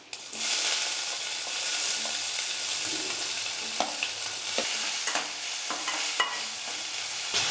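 Onions tipped into hot oil where fennel seeds are already frying, a steady close sizzle with scraping stirs and small clatters of a spoon against the pan throughout.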